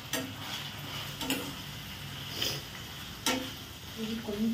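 Onions cooking in a pan with a steady sizzle underneath and several sharp scraping stirs at intervals, close and moderately loud.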